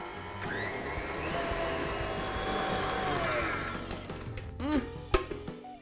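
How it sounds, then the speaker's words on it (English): Electric hand whisk beating honey into cupcake frosting of honey and yoghurt, a steady motor whir with shifting pitch for about four seconds, then tapering off into clinks and knocks of the beaters against the bowl. "whack the whisk on again and beat it until it's all really well combined"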